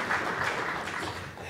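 Brief burst of conference audience applause at a tech talk, short and moderately loud, trailing off quickly.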